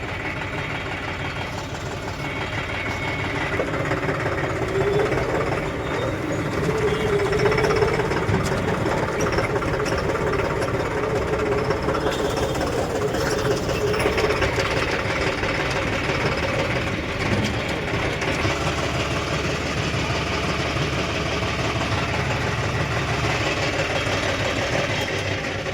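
A tractor stands on a weighbridge with its engine idling. The diesel drone is low and steady and carries on without a break at moderate loudness, with faint background noise around it.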